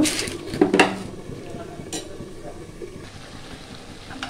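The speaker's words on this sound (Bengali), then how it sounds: "আর এই যে কাঁঠাগুলা দিয়ে আমি কিছুক্ষণ কষিয়ে নিচ্ছি।" Jackfruit sautéed with meat spices in a pan: a few close metallic clinks and scrapes of a spoon against the pan early on, then a soft, low cooking hiss.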